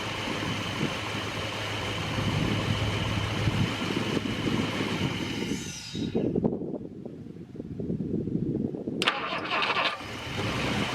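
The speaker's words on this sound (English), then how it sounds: "This thing will fire up and run real good now" A freshly tuned engine runs with a steady, mid-pitched drone, cuts out about halfway through, then fires up again near the end.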